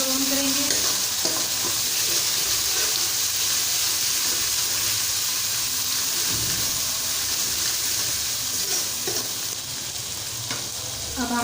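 Garlic and ginger paste browning in a pan, a continuous hissing sizzle with occasional stirring scrapes and clinks, steady and close throughout.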